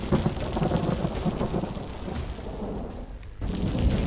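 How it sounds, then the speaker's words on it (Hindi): Heavy monsoon rain pours steadily over a flooded area in Surguja, with rolling thunder rumbling beneath the dense hiss, a brief drop near the end before the downpour swells back loud. "तो देखिए अगली तस्वीर है आफत की बारिश की"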